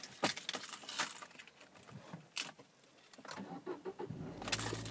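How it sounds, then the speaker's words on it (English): A grey Citroen DS3 Sport with a manual gearbox and petrol engine starts up: faint key jangling and cranking, then the engine catches first time and settles into a quiet idle. "And just getting the car started."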